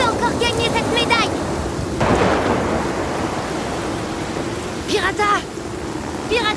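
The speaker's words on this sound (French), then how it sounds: "cette tempête est trop forte" A cartoon storm with steady rain and rolling thunder, heard as a constant wash of rain under low rumbling swells, with voices shouting over it in places.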